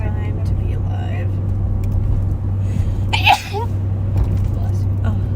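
A single sneeze inside a moving sheriff's patrol car, heard once midway through over a constant low engine and road rumble, with faint talk around it.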